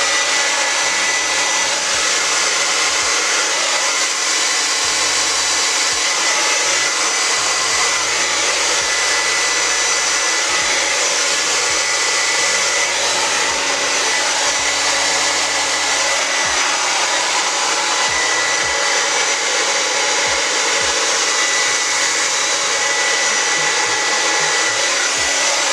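A hair dryer blow-drying wet hair on a V-part wig, a loud, steady whooshing hum running unbroken throughout with slight fluctuations as the airflow shifts.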